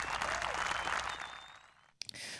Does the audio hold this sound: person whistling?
no